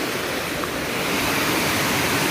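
Orakkar waterfall pours steadily in a forest, a dense, unbroken roar of rushing water that stays loud and close throughout, with no voices.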